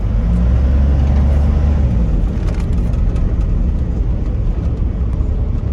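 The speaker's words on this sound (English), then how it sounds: "It sounds like one of the brakes might be dragging as well" A first-generation 12V Cummins farm truck drives along with a loud, steady low engine rumble and road noise, with a possible dragging brake adding to the drone.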